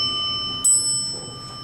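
A Montgomery traction elevator's bell chimes once in a hotel at the Dolphin Resort, with a bright ringing tone that hangs on and slowly fades over a steady background hum.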